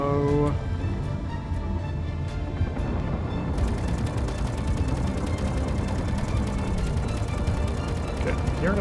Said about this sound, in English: Okay, I'm hearing a lot of gunfire,